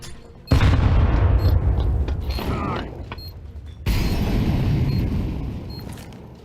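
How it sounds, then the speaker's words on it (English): A video game grenade goes off with a loud booming burst, followed by a second heavy blast and a long rumbling decay. "Grenade."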